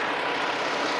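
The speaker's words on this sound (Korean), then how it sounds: "엔진 소리 한번 들려드릴게요" A white Hyundai Grandeur with about 100,000 km and no accident history idles with a steady, even engine drone, heard close and without a break throughout.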